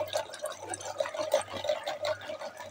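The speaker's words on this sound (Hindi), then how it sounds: "लस्सी बना रहा हूँ" Lassi being churned with a hand churner, giving a steady wet sloshing and swishing of liquid, close and continuous throughout.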